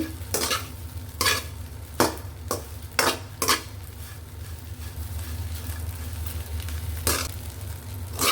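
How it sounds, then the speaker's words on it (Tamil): Quick stirring strokes scrape through a pan of frying bread pieces, with a steady sizzle underneath and several sharp clinks of a spoon against metal. "ப்ரெட்டை போட்டுருவோம். குயிக் ஸ்டர் ஒன்று கொடுத்தா சரி."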